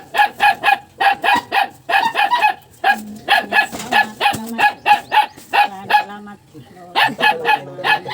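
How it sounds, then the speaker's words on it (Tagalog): A dog barks repeatedly in quick bursts, loud and close, with brief pauses between volleys and a few softer yips. "Maingay po yung aso."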